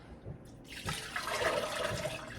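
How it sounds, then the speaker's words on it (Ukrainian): Water pours into a flower vase, a close, brief rushing splash that begins after a short quiet start and holds steady to the end. "Наливаємо просто сюди водички."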